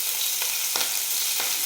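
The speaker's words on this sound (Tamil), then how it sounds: "எண்ணெய் காஞ்சதுக்கு அப்புறமா கடுகு வந்து போட்டிருக்கு" Mustard seeds frying in hot oil for vada pav, a steady bright sizzle with faint crackles and pops, heard up close with no voices.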